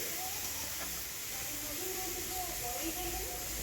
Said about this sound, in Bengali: ভালো করে তেলের মধ্যে বাঁধাকপি পেঁয়াজ কুচি কারি পাতা শুকনো লঙ্কা আর সর্ষে ভালো করে নেড়ে নেবো